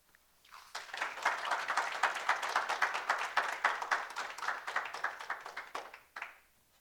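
An audience at a community college entrepreneurship press conference bursts into applause for a speaker's story, with dense, sustained clapping that swells quickly, holds steady and then fades out.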